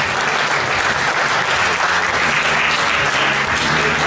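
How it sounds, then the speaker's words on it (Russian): Sustained applause from an audience at an award ceremony for young talents, dense and loud clapping that holds steady without any voices on top. "Давайте еще раз поприветствуем, аплодируем дипломатов и лауреатов конкурса"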